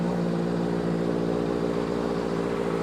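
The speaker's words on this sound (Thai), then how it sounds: "ขออนุญาตดับเครื่องยนต์ก่อนนะครับ" Steady, low rumbling of a 2017 Honda CBR650F motorcycle engine idling nearby, a continuous even drone with no revving or other sounds.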